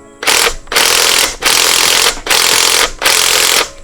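An impact gun fires in five loud, sustained bursts, each lasting about half a second with brief gaps between them, as it unscrews size 14 gearbox mount bolts on a Proton Saga 4G93 during home gearbox removal.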